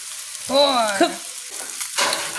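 Fried rice sizzling in a pan with oyster sauce added, a steady frying hiss with tonal squeals of scraping and stirring, fairly close and without talk.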